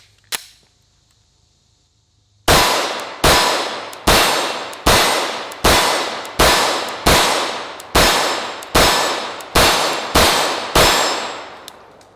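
A Glock 17 pistol fires about twelve sharp, evenly spaced shots after a short quiet start, each crack followed by a ringing metallic clang from steel targets, loud and close with decaying echoes.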